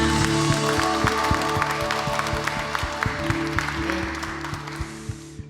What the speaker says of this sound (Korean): 우리 예배의 주인이신 우리 예배의 대상이신 주님 앞에 영광의 박수를 올려드리실까요?